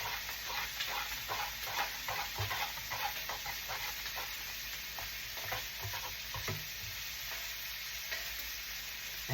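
A pan of Lao pork caramel with chicken stock sizzles steadily as it heats, with a spoon scraping and stirring in a repeated rhythm throughout, close and moderately loud.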